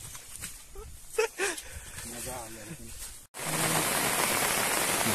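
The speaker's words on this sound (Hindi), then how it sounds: "हेलो गाइस बहुत ज्यादा बारिश हो रही है" Heavy rain on a hillside outing pours down as a loud, dense, steady hiss that swells to fill the second half, with excited voices talking over the downpour before it.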